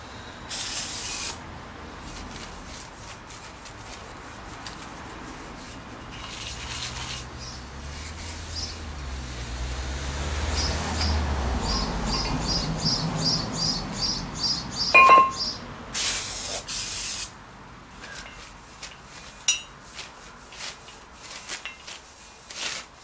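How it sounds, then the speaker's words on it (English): Aerosol brake cleaner sprayed liberally onto the brake discs of a Honda Civic MK8, in several sharp hissing bursts of varying length, with rubbing and a faint metallic clink between sprays. "we're going to do that with brake cleaner."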